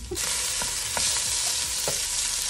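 Sausage browns in a hot pan with a steady, close sizzle and some stirring scrapes, with no talking.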